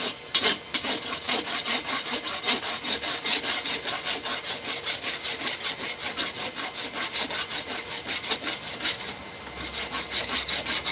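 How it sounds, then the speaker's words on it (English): A rasp files steel on a wrench being shaped into a tomahawk, with fast, even back-and-forth scraping strokes, loud and close, continuing steadily with one brief break. "Throw a little bit of hot rasp."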